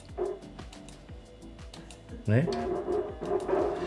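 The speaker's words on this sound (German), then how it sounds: "Es ist halt eine Plastikplatte, die am Rücken gerade runter liegt und irgendwo mittig davon kommt eine Vibration raus" A vibrating plastic back plate device buzzing, rapid repeated rasping pulses with a dog-like yapping quality, close and fairly loud, under music with a person speaking briefly.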